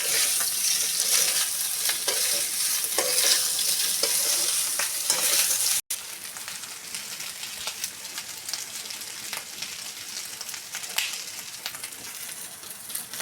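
Dhokla pieces are tossed and stirred in a pan of hot tempering, a close, continuous crackling sizzle with scraping turns throughout, briefly cut off once midway before carrying on.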